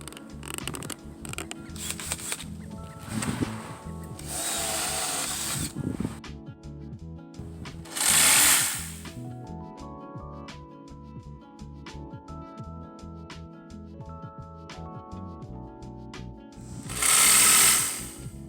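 A saw cutting a piece of scrap fancy plywood for a custom sign, heard as several loud, harsh bursts of cutting noise separated by quieter stretches with steady tones in the background.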